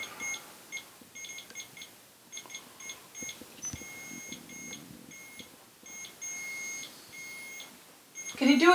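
Short electronic beeps from a ghost-hunting meter chirp repeatedly in irregular bursts, close and fairly clear, while people talk quietly in the room.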